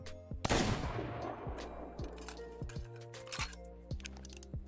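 Rapid bursts of gunfire from a Fortnite match, a dense volley of cracks at the start followed by spaced single shots and clinks, fairly quiet with no talk.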